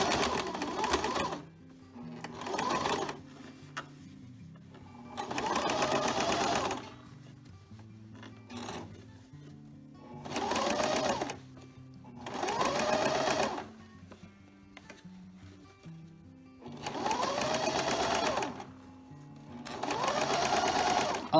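A home sewing machine stitches close to the sewn edge through layered seam allowance on an Olson-pattern fabric face mask, running in several distinct bursts with short pauses between, steady and fairly close.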